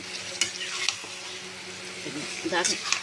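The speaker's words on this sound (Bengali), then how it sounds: "ভালো করে নেড়ে চেড়ে" Desi chicken frying in a pan as it is stirred, with steady sizzle beneath close scraping strokes and a voice speaking briefly.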